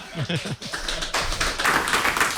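Studio audience applause on the tech talk show This Week in Tech follows a brief spoken phrase, swelling into a dense wash of clapping that holds steady to the end.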